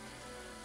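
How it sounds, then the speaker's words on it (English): Steady rain falls across Desert Island in the video game Little Big Adventure 2, a continuous even hiss of drops on surfaces with no pauses or voices over it. "You can just go into the fairy while it's still raining, causing it to rain on Desert Island"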